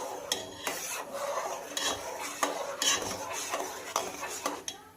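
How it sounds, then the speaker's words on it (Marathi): Sago pearls being stirred around a pan with a spoon, giving repeated scraping and clinking strokes at close range for several seconds, with no talking. "सर्वप्रथम यामध्ये आपण साबुदाणा घालणार आहोत आणि छानपैकी असं फिरून घेणार आहोत"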